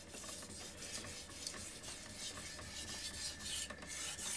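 Knife steel rasping steadily against a coarse-feeling vitrified whetstone, a continuous close scraping with faint rhythmic strokes and no voices.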